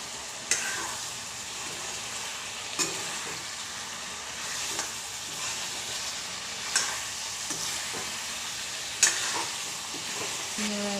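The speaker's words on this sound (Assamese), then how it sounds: "আলু দি অলপ লৰাই দিছোঁ।" Potatoes are stirred into nearly boiled meat in a cooking pot, with a continuous sizzle and a few sharp spoon scrapes spaced a couple of seconds apart.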